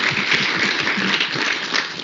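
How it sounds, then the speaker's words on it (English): Audience at a women's corporate event in Zimbabwe giving a round of applause, a steady, moderately loud patter of many hands clapping with no pauses. "I think a round of applause is deserved."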